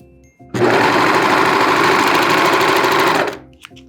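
A serger sewing machine chains off the edge of sock fabric in one steady, loud, close burst of rapid stitching that lasts about three seconds, then stops abruptly.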